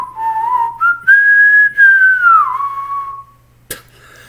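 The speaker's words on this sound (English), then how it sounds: "I can whistle." A person whistles a wavering melodic tune up close, with sustained notes gliding up and down before a short sharp click ends it.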